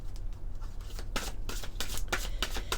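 Tarot cards are riffled and shuffled by hand close by, a series of quick papery bursts that grow louder and more regular toward the end.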